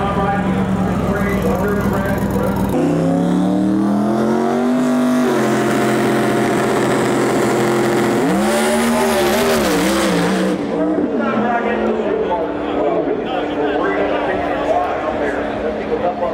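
Loud drag race car engines roar and rev with rising and falling pitch at the starting line during World Cup Finals eliminations, Renegade versus Modified classes, while a voice talks over the din.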